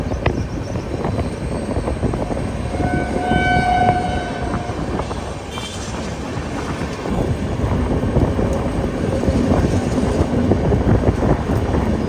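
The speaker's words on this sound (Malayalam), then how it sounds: "ട്രെയിൻ ഇപ്പോൾ അഞ്ചാർ എന്ന സ്ഥലത്തെത്തിയിരിക്കുകയാണ്" An Ala Hazrat Express sleeper coach running on the Ajmer to Bhuj route gives a loud, steady rumble of wheels and carriage, with distant horn-like tones sounding partway through and no talk.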